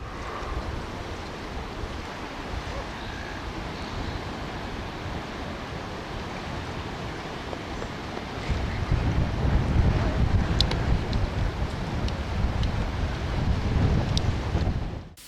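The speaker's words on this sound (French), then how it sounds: "il y a du vent" Gusty wind buffets the microphone in a rough, steady rumble that grows stronger partway through, with faint water sounds beneath.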